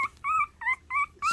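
A young puppy cries for her mother at feeding time, four or five close, high-pitched whimpering whines in a quick repeating rhythm.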